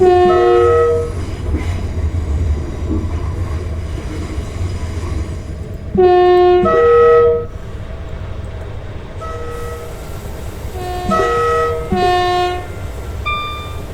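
A Virgin Trains intercity train in Britain rumbles past close by, its horn sounding in several loud blasts over the steady roar and clatter of wheels on rails.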